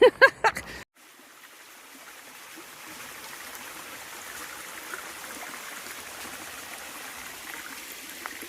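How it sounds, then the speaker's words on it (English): A small creek flowing at a trail water crossing, a steady soft rush and trickle of moving water heard at a moderate distance, preceded by a few brief loud knocks at the very start. "Well, that was a pretty little water crossing."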